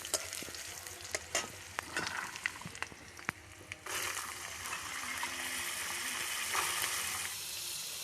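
Chickpeas and crushed garlic hit hot tempering oil for a taro-greens curry, with a few sharp crackles and pops first, then a loud, steady sizzle close by.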